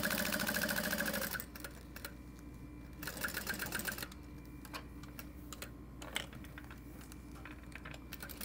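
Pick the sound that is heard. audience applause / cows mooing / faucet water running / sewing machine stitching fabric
sewing machine stitching fabric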